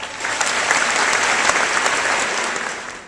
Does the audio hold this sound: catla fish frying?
no